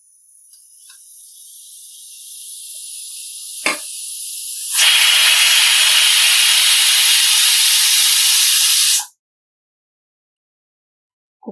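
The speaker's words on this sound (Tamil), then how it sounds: "குக்கர் 2 விசில் வந்துருச்சு." A pressure cooker cooking shrimp biryani on a stovetop builds a rising hiss that bursts into a loud, steady whistle of escaping steam for about four seconds, then cuts off abruptly.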